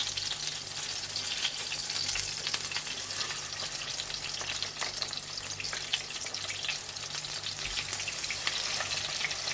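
Raw mince kebabs fry on a medium flame, a continuous close hiss and sizzle of hot oil that stays even and busy throughout, with no voices.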